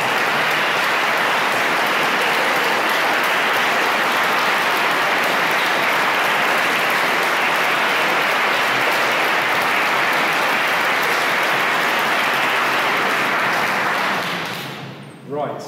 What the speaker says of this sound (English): I'm sure you want to give him another round of applause